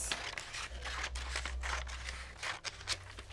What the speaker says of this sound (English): take my scissors and trim off the excess